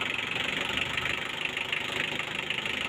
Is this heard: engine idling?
yes